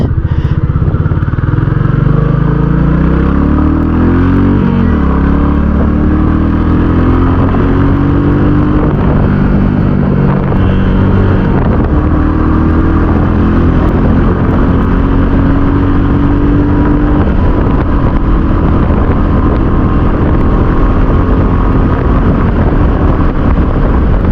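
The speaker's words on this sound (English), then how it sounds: "You can cruise all day at 100 kph in this motorcycle." A 2021 Royal Enfield Classic 350 motorcycle engine drones loudly and steadily at about 100 kph, its pitch shifting slightly as gears change, with heavy wind rush on the microphone.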